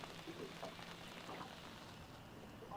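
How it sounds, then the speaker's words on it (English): Light rain starts falling during a sun shower at a lakeside, a soft, steady patter spread evenly and faintly across the outdoor background. "it's just started raining"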